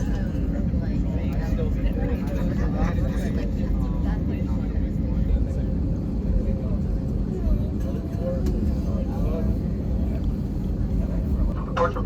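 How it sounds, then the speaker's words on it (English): A Spirit Airlines jet taxis out toward the runway, its engines giving a loud steady cabin rumble with no pauses, heard from inside the aircraft. "Heading out to the runway, we pass a variety of aircraft"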